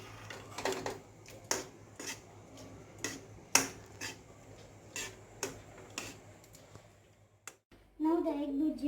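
A spoon scraping and tapping against a pan while egg bhurji is stirred, irregular sharp clinks at a moderate pace, fairly faint and close, with a brief voice near the end.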